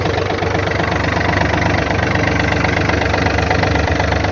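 A Yanmar F215 21 hp Japanese compact tractor with 1270 engine hours idles steadily up close, a loud, even diesel rumble with a fast knocking pulse and no voices over it.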